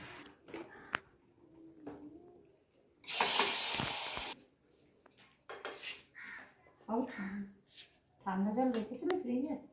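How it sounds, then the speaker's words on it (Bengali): Potatoes hit hot oil in a home kitchen, giving a loud burst of sizzling that lasts about a second, surrounded by pot and utensil clatter and people talking. "এখানে তেলটা গরম হয়ে গেছে আমি আলুগুলো ভেজে নেব"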